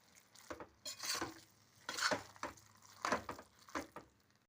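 Boiled potato pieces are stirred into a dahi aloo curry as a faint series of soft scraping pushes, about one per second, close but quiet.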